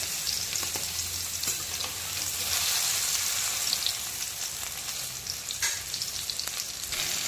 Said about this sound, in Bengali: 2 মিনিট পর পর একটু উল্টে দিতে হবে যেন বেগুনটা সুন্দর মতো ভাজা হয়ে যায়।